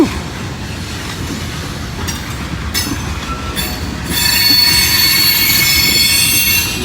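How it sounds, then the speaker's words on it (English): Train wheels squealing on a curve fitted with flange greasers, a loud shrill metallic screech that rises and intensifies partway through over a low rolling rumble of passing railcars, with no talk. "His wheels still squealing."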